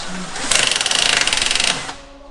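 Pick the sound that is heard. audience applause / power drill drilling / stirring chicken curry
power drill drilling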